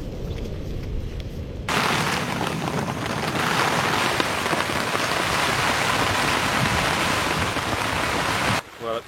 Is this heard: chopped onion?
no